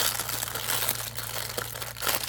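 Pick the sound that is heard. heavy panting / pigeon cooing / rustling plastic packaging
rustling plastic packaging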